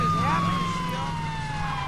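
A police car siren in the video game Saints Row 2 wails steadily and loudly, its pitch sweeping slowly, with a low engine rumble beneath and no talk.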